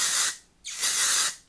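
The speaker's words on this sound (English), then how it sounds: "I just sprayed some of this Beach Wave texture spray by Kristin ESS." Kristin ESS Beach Wave texture spray from an aerosol can gives two strong, close hissing bursts separated by a short pause, with no voices.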